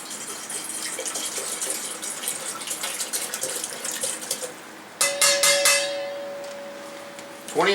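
Water pours into a camping stove pot ahead of a boil comparison between MSR Whisperlite and Whisperlite Universal stoves, a steady running trickle that pauses and then resumes with sharper splashing bursts and a rising filling tone.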